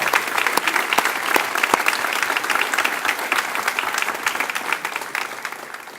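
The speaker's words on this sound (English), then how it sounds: "Please give them a round of applause" An audience applauds city commissioners at the Harlingen State of the City Address, with dense sustained clapping and a few sharper individual claps standing out, steady throughout.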